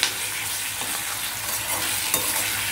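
Chili chutney stirred into hot oil over low heat, with onions in the tempering, gives a dense, steady sizzle and crackle. Faint scraping from stirring and a few sharper pops sound close by, with no talking.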